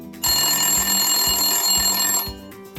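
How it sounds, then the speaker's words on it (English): A bright electronic telephone ring sounds loud and close, a sustained trilling tone lasting about two seconds over a faint low rhythmic background, then stopping. "Then the phone rang."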